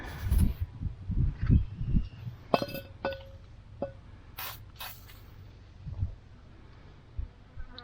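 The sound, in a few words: spraying penetrating oil from aerosol can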